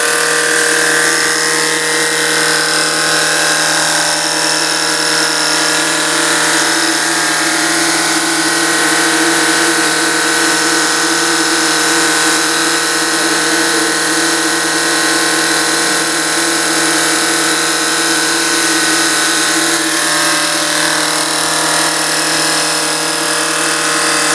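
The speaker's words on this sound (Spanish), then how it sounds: "tenemos 1200 RPM en el motor eléctrico y 2400 RPM en el árbol de levas" An electric motor at 1200 RPM drives a camshaft at 2400 RPM on a spring test rig, a loud, steady mechanical drone with a constant tonal whine and rattling, unchanging throughout.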